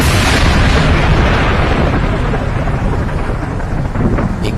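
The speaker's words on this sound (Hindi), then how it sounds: "अचानक आसमान में तेज बिजली कड़कती है।" A heavy thunderclap booms loudly and rolls on as a sustained rumble, fading slightly toward the end, as a sound effect in a Hindi horror story about a haunted mansion.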